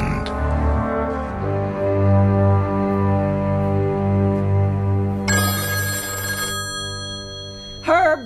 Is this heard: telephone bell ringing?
yes